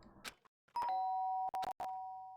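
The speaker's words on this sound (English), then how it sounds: "The sharp sound of the doorbell pierced my sleepy haze and pulled me back to the real world." A doorbell chimes in the video game Danganronpa, a clear ringing tone with a few quick repeated strikes that hang briefly, faint overall with short clicks before it.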